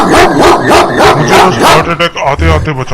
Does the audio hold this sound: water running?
no